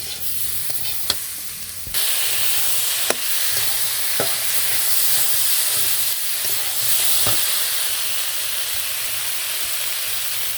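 Spices and salt sautéed in oil in a pan on a clay stove, a steady close sizzle and hiss with occasional sharp scrapes and knocks of a stirring utensil against the pan, no one speaking.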